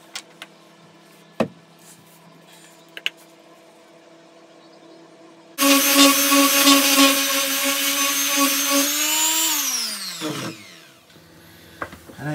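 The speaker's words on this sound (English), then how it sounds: "give the whole thing a sand over." A power sander runs over a small pine and oak box, starting abruptly midway as a loud, close, steady whine, then winding down with a falling pitch after a few seconds, with faint knocks before.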